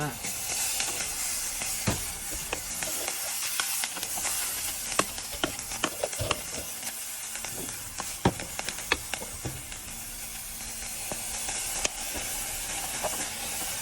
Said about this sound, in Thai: เสียงเดือดมาแล้ว เสียงความร้อนมาแล้ว